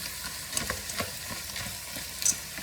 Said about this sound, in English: Mix it all together. Mix, mix, mix.